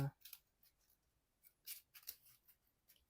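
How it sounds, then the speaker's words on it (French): Playing cards from a Marvel Champions card game being shuffled, a few quick faint riffling and snapping bursts close by in a quiet room. "Je vais remélanger toutes les cartes."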